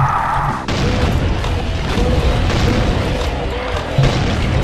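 Revenant rockets exploding in Doom 2 with the Brutal mod: a loud boom, then a dense stretch of rumbling blasts and crashes, close and heavy.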